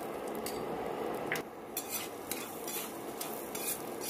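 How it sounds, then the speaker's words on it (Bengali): Peanuts dry-roast with salt in a kadai on an induction cooktop, a quiet rattling and scraping as a spatula stirs them, with soft irregular clinks of utensil against the pan over a faint hiss. "আমি বাদামটা ভেজে নেওয়ার জন্য কড়াইয়ের মধ্যে বাদামটা দিয়ে দিয়েছি"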